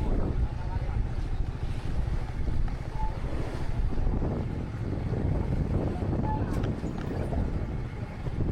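A boat rocking on ocean waves, with steady broadband wind and water noise rushing close to the microphone throughout.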